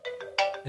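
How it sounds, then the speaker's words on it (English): A short electronic phone alarm tone, a few quick repeating chime notes stepping in pitch, clear and close with no talking. "That's my alarm."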